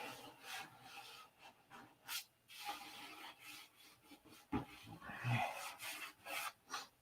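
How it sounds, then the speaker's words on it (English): Rhythmic rasping strokes of 600 grit sandpaper rubbing a surface, close and fairly quiet, repeating in short back-and-forth passes with brief pauses. "But a sand out with 600 will bring it right in line."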